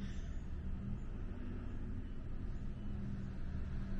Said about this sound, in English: mate's gonna run the engine now